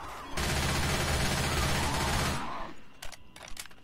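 Rapid automatic gunfire in the zombie shooter Left 4 Dead 2 roars as one dense continuous burst for about two seconds, then tails off into a few scattered lighter shots and clicks.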